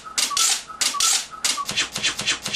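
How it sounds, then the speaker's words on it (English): Adhesive tape pulled off the roll in a tape-and-box workshop: several loud, close ripping pulls come in quick bursts, the last ones shorter and choppier, with no talking. "So let's get some more tape ready."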